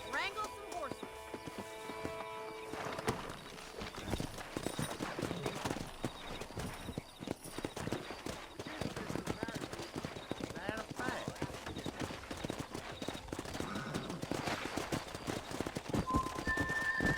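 Clip-clop of horse hooves in Red Dead Redemption, steady and rhythmic, with horses whinnying and people talking over a busy game soundscape.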